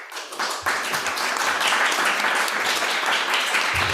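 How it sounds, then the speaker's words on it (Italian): An audience applauds at a presentation meeting, with dense, steady clapping from a crowd that begins abruptly and continues loudly throughout. "Bravi, applaudite"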